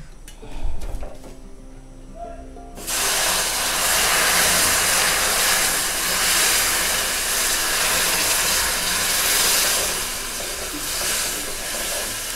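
Boiled jaggery water poured slowly into a hot pan while stirring, giving a sudden loud, steady sizzling hiss that starts after a quieter opening with faint kitchen clatter and keeps going to the end.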